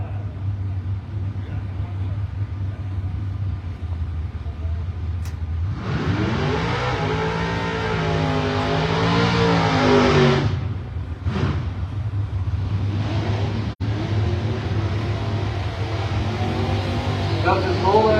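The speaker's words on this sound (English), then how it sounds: "So round one in the stock and super stock quarter-mile drag racing here." Stock and super stock drag racing cars, including a Ford Mustang, launching down a quarter-mile strip: a loud engine roar builds and rises in pitch through the run, then fades, with announcer-style talk underneath.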